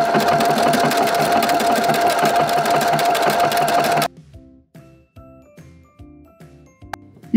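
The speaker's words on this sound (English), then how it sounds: "let's make sure the straight line on your overcast stitch is gonna be right at the edge of the rib knit" Sewing machine running an overcast stitch along the rib knit edge of a sweater sleeve: a loud, steady whirring stitch for about four seconds, then it stops and faint clicks and handling noises follow.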